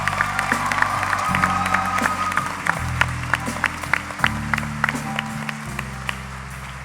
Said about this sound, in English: please give another round of applause to Afyah Giuliani